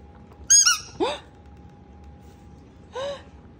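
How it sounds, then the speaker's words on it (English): A squeaker ball toy gives three close, high-pitched squeaks with a wavering pitch, two in quick succession and a third after a pause, over a faint background hum. "it's a squeaker ball?"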